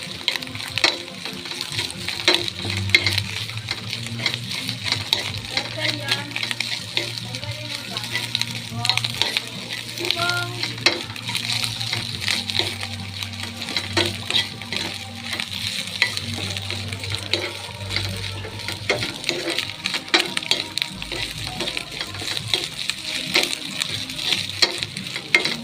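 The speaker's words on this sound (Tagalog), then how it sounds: "Dire-diretso lang ang halo" Eggs sizzle and fry in a pan while being stirred continuously, a steady loud crackling hiss with scraping stir sounds running throughout and a low hum underneath.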